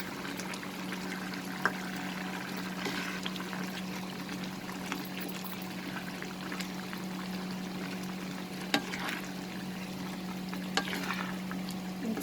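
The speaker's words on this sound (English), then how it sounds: "Now we will add these fried prawns." Fried prawns going into a pan with sponge gourd, a soft continuous sizzle with light stirring and a few sharp clinks over a steady low hum, no voices.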